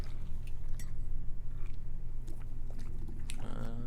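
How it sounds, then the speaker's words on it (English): Munching and chewing from a movie trailer, steady bites running under a heavy, low, rumbling score. "Munching, eating."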